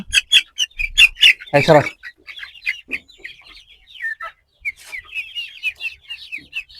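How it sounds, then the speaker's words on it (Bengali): Colour-bird broiler chickens on a poultry farm squawk sharply in a loud burst as they are grabbed for weighing, then settle into a run of nearby clucks and chirping calls. "সো আমরা আরো দুই একটা মুরগি ধরি ধরে দেখি কি অবস্থা"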